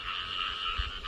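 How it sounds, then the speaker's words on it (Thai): Frogs croak at night in a wet rice field after rain, a dense, steady, close chorus of overlapping calls with a low pulse underneath. "เสียงเขียดเสียงกบ"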